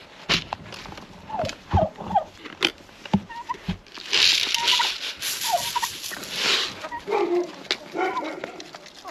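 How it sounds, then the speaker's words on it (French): Turkeys gobbling in a farmyard poultry run while being fed a mix of wheat and maize, repeated loud rattling calls close by, with some sharp bird noises between them. "Donc les dindons c'est pareil, je leur mets un mélange de blé et maïs."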